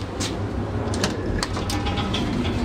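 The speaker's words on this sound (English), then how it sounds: "lift starts as soon as the door is closed" An old lift door slides shut with a broad mechanical rumble and a few faint clanks over steady machine hum, at close range with no voices.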